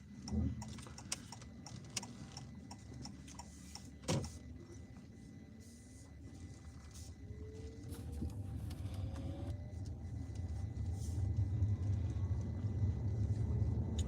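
A car pulling away and driving on during a driving test, its engine and road noise building steadily from a quiet idle to a louder, continuous rumble, with a brief knock near the start and no talking.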